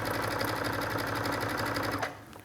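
A sewing machine runs a zigzag stitch along the trim of a bridal veil, a steady rapid mechanical chatter that continues evenly, close and alone, before stopping abruptly near the end.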